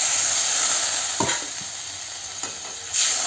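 Spices with turmeric powder and water are stirred in a hot pan, a dense bright sizzle with a couple of spatula scrapes and knocks against the metal, close and loud, no one speaking.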